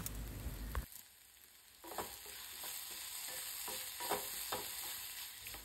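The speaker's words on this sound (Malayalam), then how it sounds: "നല്ലോണം അതിൻ്റെ പച്ചമണം മാറുന്നത് വരെ നന്നായിട്ടൊന്ന് വഴറ്റി കൊടുക്കാം കേട്ടോ" Crushed spices, curry leaves and dried shrimp sauté in a hot pan for a dried shrimp fry, a steady close sizzle broken by several stirring scrapes and clinks.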